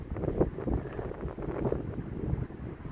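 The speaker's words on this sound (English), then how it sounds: "Getting windier now too. The gusts just picked up in here big time." Wind buffets the microphone in rough, uneven gusts, a low rumbling roar that surges and eases with no voices.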